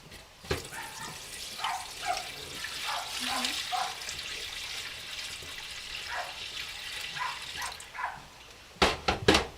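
Thawed, previously frozen fish roe is rinsed under running tap water, with a soft continuous splashing and trickling, intermittent louder gushes, and a few sharp knocks near the end.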